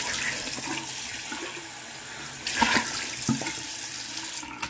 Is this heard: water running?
yes